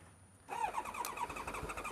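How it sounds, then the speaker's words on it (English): A carbureted sport motorcycle, either a Kawasaki ZX-7R or a Suzuki SRAD, fires up after near silence and settles into a loud, close, uneven engine note that runs steadily to the end with no talking. "Turn the ignition on first. It might just start."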